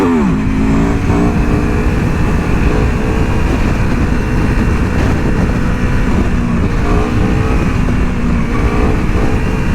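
A 2021 Aprilia Tuono V4 Factory motorcycle accelerates hard, its V4 engine climbing through the revs with a gear change and a second rising pull, loud and close over constant wind rush.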